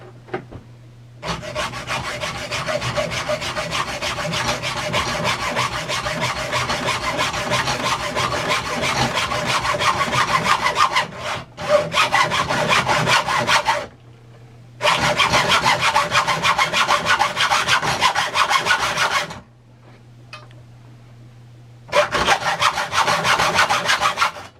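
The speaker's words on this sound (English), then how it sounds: "Trying to keep my hacksaw blade straight." Hacksaw cutting through a thick metal bar: loud, close, steady back-and-forth rasping strokes that run on continuously, broken by a few short pauses and with no talking.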